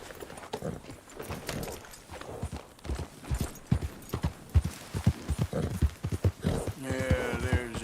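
Horse hooves clip-clopping at a gallop in Red Dead Redemption 2, a steady rhythmic beat of near, moderately loud footfalls running throughout, joined by a brief tonal game sound near the end.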